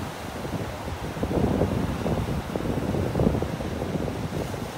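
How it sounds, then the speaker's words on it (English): A light northwest breeze on the beach by Naples Pier rushes steadily across the microphone as a soft, continuous broadband whoosh, with a faint wash of surf underneath and no voices. "Feels like the wind is coming in from the northwest here. A little breeze, not a wind."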